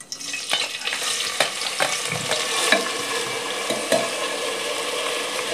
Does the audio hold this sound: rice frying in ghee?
yes